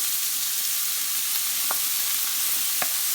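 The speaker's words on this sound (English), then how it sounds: "And cook them until your vegetables start to get tender." Vegetables and garlic fry in a pot over medium heat for a Bolognese sauce, giving a steady soft sizzle and hiss with a couple of faint clicks from stirring.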